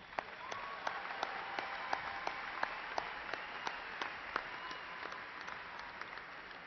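Applause for graduates at Angelo State University's spring commencement, a thin steady patter of clapping heard from a distance, with sharp louder claps standing out at regular intervals.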